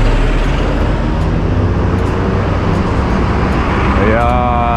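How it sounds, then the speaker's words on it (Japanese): Dense car traffic at a busy crossroads in Hamamatsu, a loud continuous roar of engines and tyres close by, with a brief tonal whine near the end. "車の量多いわ。"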